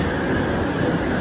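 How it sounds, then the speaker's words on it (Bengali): An underground metro train at a station in Malaysia produces a loud, steady roar and rumble of rolling carriages, brief and unbroken, with no voices. "এই যে আমাদের ট্রেন চলে আসছে, আমরা এখন এই ট্রেনে করে যাব"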